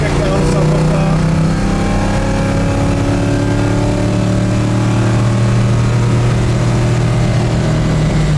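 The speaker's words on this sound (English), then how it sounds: "Those 327s are good motors." A 1965 Chevelle SS's 327 V8 hums loud and steady on the road, its pitch climbing gradually under acceleration, with people talking inside the cabin over the engine.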